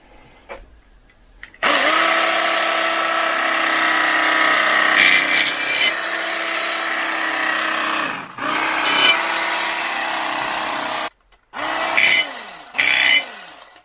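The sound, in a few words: BLACK+DECKER electric carving knife slicing ham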